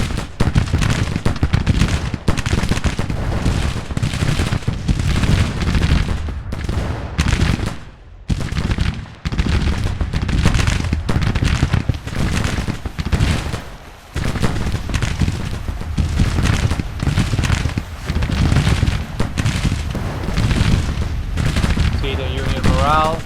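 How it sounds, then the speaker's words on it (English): Flanking troops firing in a Civil War battle video game, with a dense, continuous roar of massed musket volleys and crackling shots, loud and nearly unbroken throughout apart from brief lulls, with someone talking over it. "they're getting some flanking fire on the men"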